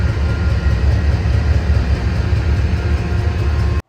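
Freight train rolling slowly along the tracks of the Glidden and Austin subdivisions, a steady loud low rumble with continuous wheel noise and no voices.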